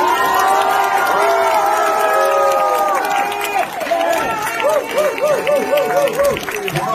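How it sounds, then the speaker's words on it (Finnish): An audience at a live concert cheers and claps loudly and continuously, with excited shouts and whoops rising over the crowd noise throughout. "Haluatteko antaa Helmille vielä oikein lämmimmät aplodit?"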